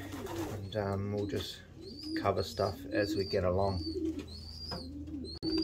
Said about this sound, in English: So I did pair up a lot of birds yesterday. You will hear them in the background